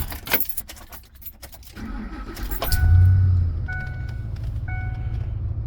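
Keys jingle and clink briefly up close, then a 2004-2010 Ford F-150 engine turns over and settles into a steady idle with faint beeping tones.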